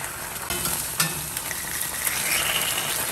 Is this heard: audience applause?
no